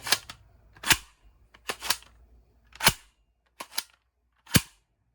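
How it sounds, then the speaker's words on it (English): Several sharp snapping shots from a spring airsoft pump shotgun slam firing, each preceded by a softer mechanical clack of the pump, spaced irregularly and close by. "when you see the pump get to the front, you'll actually hear the gun go off"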